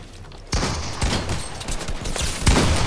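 Rapid gunfire in the Fortnite video game bursts in loudly after a quiet start, a dense continuous barrage with sharper shots near the end.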